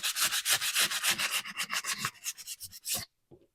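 Rapid back-and-forth sanding strokes shaving down a homemade clock, loud and close, a rhythmic scratchy rubbing that stops abruptly near the end, followed by a couple of faint handling taps.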